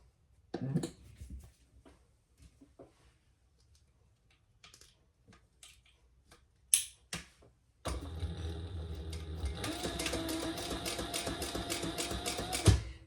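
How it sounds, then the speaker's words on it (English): A sewing machine runs steadily while stitching around a box shape on fabric for a sling bag, a few scattered handling clicks leading into a continuous, even mechanical whir in the latter half. "Now we're going to sew around our box."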